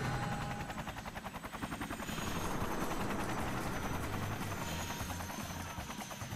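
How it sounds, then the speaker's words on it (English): A helicopter in the video game Lollipop Chainsaw RePOP gives a loud, continuous rapid rotor chop with a buzzing throb that holds steady and swells slightly partway through. "Gonna have to shoot the helicopter?"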